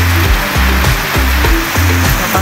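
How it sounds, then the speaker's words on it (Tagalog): Heavy rain pours steadily on a first rainy day of summer in the Philippines, a dense continuous hiss with low rumbling hum and intermittent tones underneath, no talking. "Lakas ng ulan, oh."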